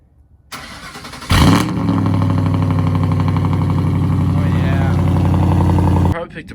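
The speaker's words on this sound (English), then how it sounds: "We're gonna back the truck up a little bit so it's actually dry where we're gonna be working" A Kia work car's engine cranks and catches with a sharp burst, then settles into a steady, loud idle with a low rumble as the vehicle backs up, holding until it cuts off near the end.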